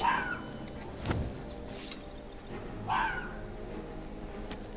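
In the video game Skyrim, a dog that has just been attacked makes a few short whimpering yelps, fairly faint, spaced over several seconds against a low background hum.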